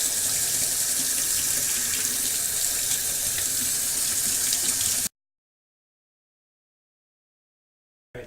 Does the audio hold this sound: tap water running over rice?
yes